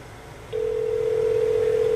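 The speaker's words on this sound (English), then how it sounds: "you can hear the phone ringing" A steady electronic telephone ring tone starts after a brief pause and holds continuously, heard through a Bluetooth sound bar speaker over faint background hum.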